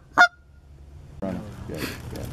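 A wounded goose out on a foggy creek gives one sharp, loud honk; after a quiet pause, a lower noisy rustle with faint calls follows.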